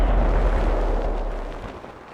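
An FV304 self-propelled artillery gun in a tank video game fires a single shot, a loud low boom that rolls off and fades over about two seconds.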